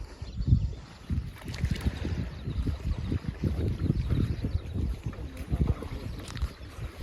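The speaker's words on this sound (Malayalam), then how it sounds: "അപ്പോൾ നമ്മൾ ബോട്ട് എത്തിയിട്ടുണ്ട്" A boat arriving at a village landing, with low rumbling engine and water churning near the microphone, mixed with wind buffeting and faint background voices.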